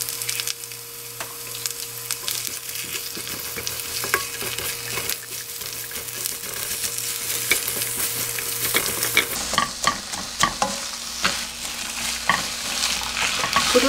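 Onion, green onion and fish cakes stir-fried in a little cooking oil for spicy fish cake stir-fry, a steady close sizzle with frequent scraping and clacking of a spatula against the pan, growing busier in the second half.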